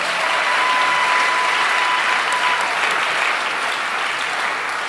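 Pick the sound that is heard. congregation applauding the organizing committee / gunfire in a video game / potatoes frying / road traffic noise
congregation applauding the organizing committee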